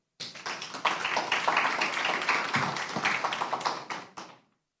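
Clapping from an audience at an electoral rules evaluation event rises quickly into a loud, even burst of many hands, holds for several seconds and then fades out cleanly.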